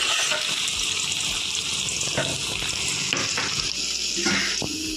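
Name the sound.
potato strips frying in a pan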